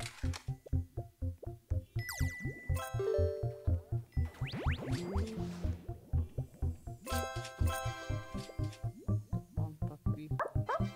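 Puppy bee in Bee Swarm Simulator, a video game, giving rapid repeated cartoonish yips and barks in a steady bouncy rhythm, layered with chiming game jingles and sparkly effect sounds.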